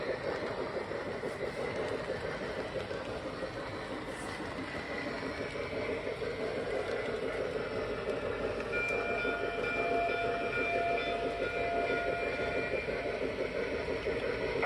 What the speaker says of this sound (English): I think the whistle sounds pretty nice on it.